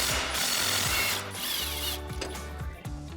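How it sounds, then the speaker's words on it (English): A 21mm socket ratchet removing Jeep Wrangler JK control arm bolts, with rapid, close ratcheting clicks in a continuous run and a brief pause midway, loud and with no talk. "we're gonna remove the bolts with our 21mm socket and our 21mm wrench"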